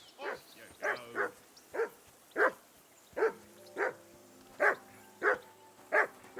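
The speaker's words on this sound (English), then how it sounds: "I assume you can hear that damn dog of yours barking." Repeated barking from a dog in Kingdom Come: Deliverance 2, roughly a dozen sharp barks in an irregular rhythm, some in quick pairs, fairly close and clear over a low ambient hum.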